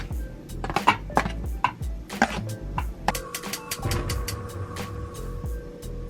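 A knife cuts sticks of butter into small pieces on a board, producing a run of sharp taps and knocks, some spaced and some in quick clusters, close up with no talking.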